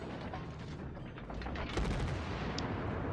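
The battleship Yamato fires high-explosive shells in a naval video game, heard as dense rumbling booming gunfire that swells louder partway through amid continuous battle noise.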